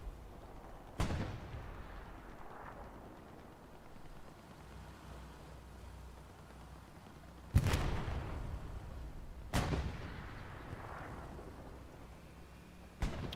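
Tank cannon fire and explosions in the Hell Let Loose video game, a medium tank engaging targets on the Foy battlefield: three heavy booming blasts with long rumbling decays over steady low battle ambience.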